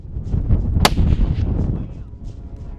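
A single sharp rifle shot fired at a wild boar during a red stag hunt in Patagonia, Argentina, cracks out once over rustling outdoor noise and wind.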